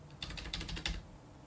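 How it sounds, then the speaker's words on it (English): Several quick computer keyboard key presses in a short burst, a handful of crisp clicks close to the mic, quiet and alone with no talking. "We'll hit L on the keyboard a couple of times to select the whole the letters here."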